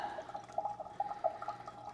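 Brewed beer wort from an extract batch splashing out of an auto siphon into a fermenter, a steady liquid trickle with small repeated drips and splashes, close and fairly quiet.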